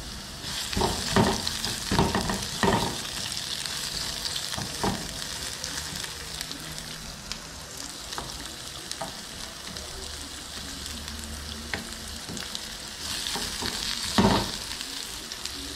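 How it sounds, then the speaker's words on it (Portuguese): Onions sautéing in olive oil in a pan, with a steady, close sizzle throughout. Intermittent stirring scrapes come through more strongly near the start and end, and nobody speaks. "Vamos colocar as cebolas para dar aquela refogada."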